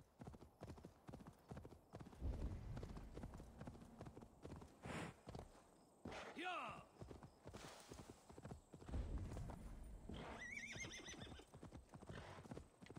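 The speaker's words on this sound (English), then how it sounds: "Horse." Horse in Assassin's Creed Valhalla galloping with rhythmic clip-clopping hooves and letting out whinnies and neighs, fairly quiet, amid in-game ambience.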